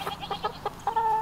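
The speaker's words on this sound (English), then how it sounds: "Good morning, chickens." Backyard chickens cluck near a pig pen in the morning, several short close clucks in quick succession ending in a longer drawn-out squawking note.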